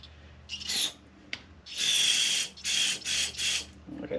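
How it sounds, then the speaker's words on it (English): Brake cleaner sprayed from an aerosol can into motorcycle carburetor jets: a short hiss, a tiny tick, then a longer hiss and three quick bursts, close and fairly quiet, with no one speaking. "I'm gonna spray some brake clean into these jets to try to get them cleaned up"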